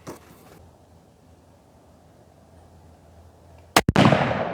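Rifle gunshots at a shooting range: two sharp, loud reports close together near the end, after a stretch of quiet room tone.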